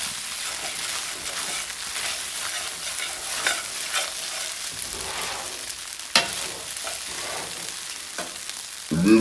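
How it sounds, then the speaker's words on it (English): Ramen noodles fry in hot oil with a dense, steady sizzle and crackle throughout, near and fairly loud, with a brief clatter near the end. "Let it fry."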